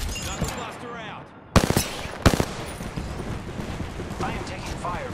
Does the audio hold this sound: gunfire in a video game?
yes